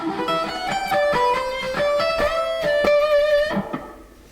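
Electric guitar playing a song's solo riff, picked single notes with a string bend and release, a clear melodic phrase that rings out loud and alone before decaying at the end.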